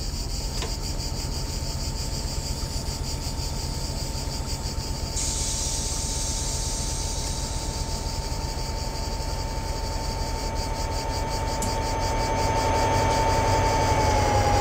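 In Train Simulator 2017, a regional push-pull train hauled by a BB67400 locomotive passes along the Martigues to Marseille line: a steady rolling rumble with a shifting high whine and rhythmic clatter that grows slightly louder near the end.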